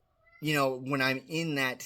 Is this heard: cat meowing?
yes